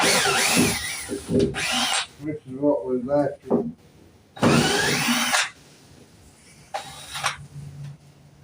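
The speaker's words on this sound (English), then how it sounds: "So I got my drill battery charged back up" A cordless power drill whirs in several loud bursts with pauses between them, close by, while someone talks in the gaps.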